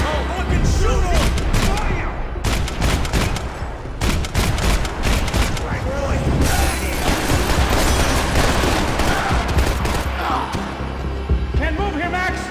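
Gunfire in the Max Payne 3 video game, dense, loud volleys of shots and impacts throughout, with shouting voices mixed into the chaotic firefight.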